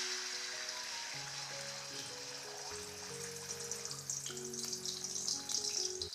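Beaten egg sizzles in hot mustard oil, a steady broadband frying hiss that runs continuously beneath a louder melodic music track and grows slightly more intense toward the end.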